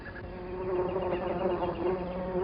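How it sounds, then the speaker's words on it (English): A swarm of flies buzzing close and continuously as they descend on sticky sap oozing from a wound on a great fig tree, a dense, steady drone with no voices. "a party of guzzling flies descends to lap up the sticky sap until the wound heals."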